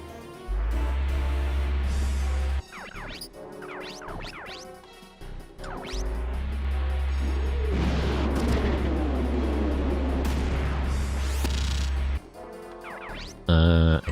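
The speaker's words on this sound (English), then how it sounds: "first let me shoot a missile" Missile launch and impact sequence from the mecha game Front Mission 3: a loud deep rumbling blast that swells and holds, broken by short pauses, whooshing sweeps and sharp metallic hits, ending in a burst of heavy impact.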